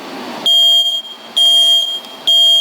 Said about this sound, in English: I want to press that button so you can see this is a working smoke detector